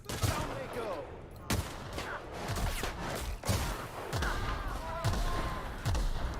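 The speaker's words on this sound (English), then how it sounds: "someone's throwing grenades at me" Grenade blasts and gunfire crack through a firefight in The Outer Worlds. Sharp, punchy reports land roughly every second, some with deeper thuds, over a continuous bed of combat noise at moderate loudness.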